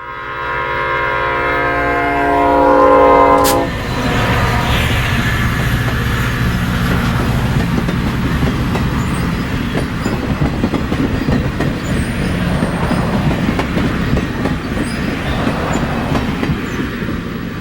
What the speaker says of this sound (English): A westbound Amtrak follows on the heels of the IC Local.